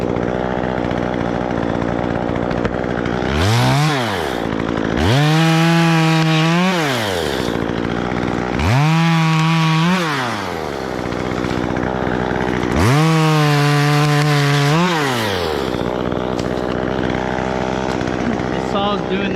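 A chainsaw cutting a skinny pine tree revs in three long bursts, rising and falling in pitch with idle gaps between, loud and close, while someone speaks briefly.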